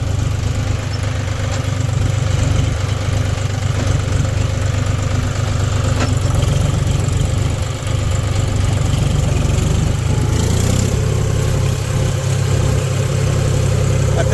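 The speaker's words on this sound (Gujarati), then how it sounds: "ત્રીજા ગેરમાં હાલે છે અટાણે ટ્રેક્ટર," A John Deere tractor with auto-steering runs steadily in third gear, its engine a loud, constant close-up drone for the whole stretch with no talk.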